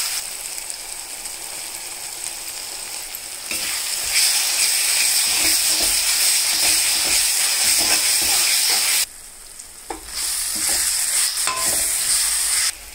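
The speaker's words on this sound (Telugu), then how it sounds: "బాగా వేగిపోయిందండి అల్లం తెల్లగడ్డ" Ginger-garlic paste frying in a pan with cooked-down tomato for an egg curry, a steady loud sizzle with scraping stirs, dropping off briefly near the end before sizzling again.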